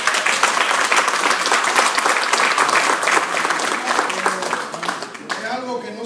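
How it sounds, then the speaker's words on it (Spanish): Applause for the women at a community leaders' meeting, a loud, dense burst of clapping from a room full of people that fades near the end as voices start talking. "quiero pedir un aplauso para las mujeres"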